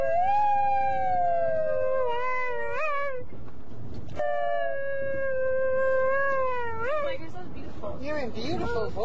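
A dog howls in long, sustained, wavering tones, close and loud, pausing once between two drawn-out howls before ending in rougher, breaking yowls.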